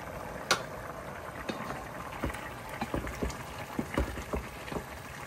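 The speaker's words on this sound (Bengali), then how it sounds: "চিকেন রান্না নিয়ারলি ডান। পানিটা একটু শুকাতে হবে" Chicken curry boils in a pot with soft, irregular bubbling and popping, faint and close, with no talking.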